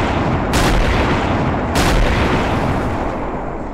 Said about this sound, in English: So we can fire some artillery around there.